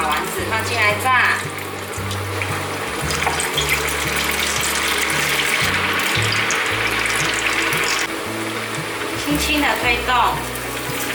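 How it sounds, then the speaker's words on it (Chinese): Tofu and shiitake balls deep-fry in a pot of hot oil, giving a dense, continuous sizzle and bubbling close by, with a voice speaking over it. "热一锅油，油热了之后，把丸子放进来炸。"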